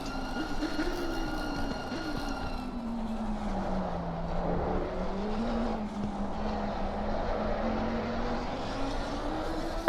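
Lamborghini Huracan engine in an endurance racing video game at Spa, a steady droning engine note rising and falling in pitch, alone without speech.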